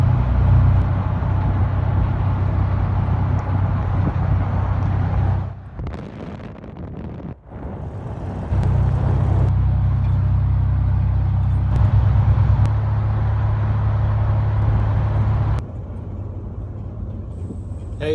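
Steady low road rumble and engine drone from inside a moving car, loud and continuous with some wind buffeting, easing off briefly midway before the drive resumes at full level.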